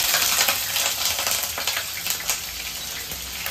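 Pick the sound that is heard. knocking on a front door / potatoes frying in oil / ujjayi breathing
potatoes frying in oil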